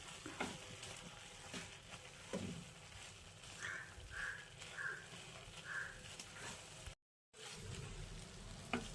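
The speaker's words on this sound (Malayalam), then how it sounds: "നമുക്കൊന്ന് ഇളക്കി നോക്കാം." A green gram leaf stir-fry sizzles faintly in a pan while it is stirred, soft scraping touches and low frying hiss carrying on throughout with a bird calling in the background.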